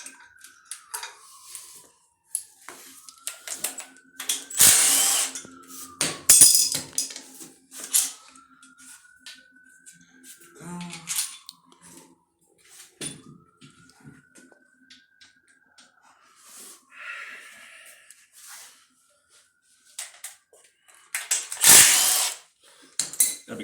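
Tools working an alternator off an engine during a teardown: scattered metallic clinks, ratchet clicks and clattering parts, with a couple of brief power-tool whines rising and falling between quieter gaps.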